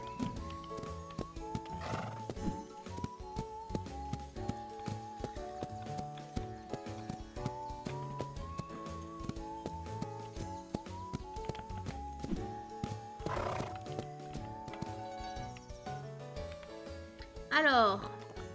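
Horses in the video game Rivershine whinny and clip-clop over a busy, steady music bed, with short neighs breaking through now and then and a louder whinny near the end.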